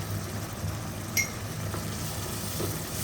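Spices with chili powder and turmeric fry for hilsa pulao, a faint steady sizzle with a single clink of a utensil.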